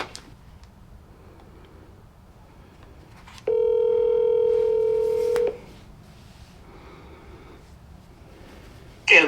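A phone call is being placed: a steady dial or ringback tone plays loud and clear for about two seconds, alone over quiet room noise, followed by a brief sharp click near the end.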